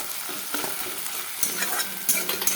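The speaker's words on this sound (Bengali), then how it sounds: "যখন পেঁয়াজটা ভাজতে থাকো তখন আমি একটু এখানেই আমি একটু চিনি দিয়ে দিব।" Onions with a little sugar frying and being stirred in a pan for a Bengali fish curry, a close, continuous sizzle with scraping stir strokes and small crackles.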